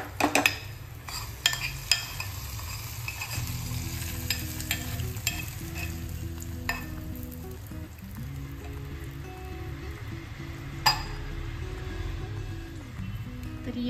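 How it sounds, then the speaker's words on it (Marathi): Garlic, cumin and coriander fried in oil being stirred into a chutney, with brisk scraping and clinking of a spoon against the vessel over a continuous sizzle and a steady background hum. "आता मी ह्या चटणीमध्ये मी ती मिक्स करणार आहे."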